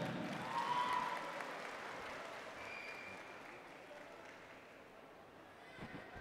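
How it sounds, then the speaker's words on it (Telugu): Crowd applause at a studio function, a dense wash of clapping that starts loud and gradually fades, with voices mixed in beneath. "ఈ స్టూడియోని నా తరపు నిర్మిస్తున్న రమేష్కి let us give a big clap"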